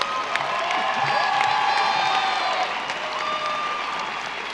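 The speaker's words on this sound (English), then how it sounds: "let's give all our Ranger Pride Award recipients a big round of applause" At a Riverside High School 2018 graduation ceremony, a crowd breaks into sustained applause for award recipients, mixed with cheering and whoops, loud and continuous throughout.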